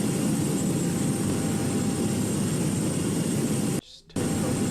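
An Airbus A321-214N in a flight simulator game spools up for takeoff, a loud, steady broadband jet roar held close and unchanging, cut by a brief dropout near the end before resuming.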